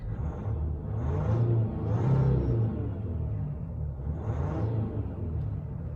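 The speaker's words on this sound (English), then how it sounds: "Sure, it sounds like a diesel" Deep, steady engine rumble swelling and easing as a 2020 RAM 1500 EcoDiesel Rebel pickup revs a few times, a low diesel drone that stays fairly quiet and muffled.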